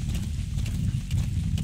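Steady clip-clop of horse hooves at a gallop in the video game Metal Gear Solid V: The Phantom Pain, a continuous rhythmic drumming over low rumbling game ambience.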